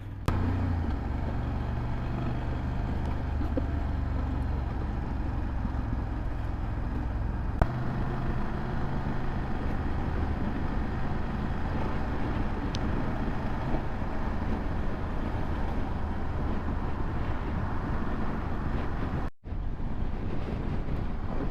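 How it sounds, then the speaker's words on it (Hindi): A car travelling at about 80–85 km/h on a highway in strong wind gives a constant, steady rumble of road and wind noise, with a brief dip near the end. "ड्राइव करने का अपना मज़ा है। 100 की स्पीड है लेकिन मैं जा रहा हूँ 80-85 पे। हवा बड़ी तेज़ है"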